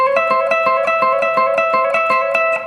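Fast bluegrass-inspired rockabilly guitar solo lick picked at speed, with rapid, evenly pulsing notes ringing over sustained tones, loud and close with no talking.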